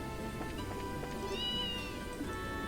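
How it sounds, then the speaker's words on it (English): Cat meowing in the game Trails in the Sky: one clear meow with a rising, drawn-out pitch, heard over soft background game music. "Oh my god, it's a cat."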